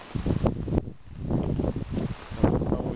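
Rain falls outside a GAZ 3308 truck, heard as a close, rushing wash with gusty wind-like buffeting on the microphone and no talking.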